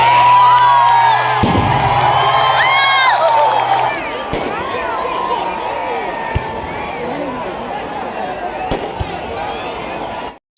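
Diwali fireworks display at a programme in Morigaon, with bursts and crackles under a loud cheering, whooping crowd, a sustained musical tone running beneath early on and sharp pops continuing as the crowd noise settles.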